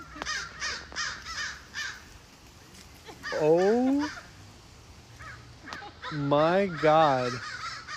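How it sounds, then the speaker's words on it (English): Crows caw over and over, loud and close, as the birds follow a woman. The calls come in quick bursts and drawn-out harsh cries, and a voice exclaims briefly among them. "These birds are following this woman."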